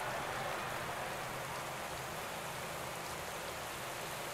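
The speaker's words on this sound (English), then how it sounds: "it starts raining" Steady rain falling in the Pro Cycling Manager racing game, a continuous broadband hiss of drops on the road surface, even and unbroken throughout with no voices.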